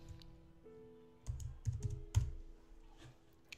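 Typing on a computer keyboard to enter a file name while saving a PDF, a few quiet clusters of keystrokes over a low hum, with no talking.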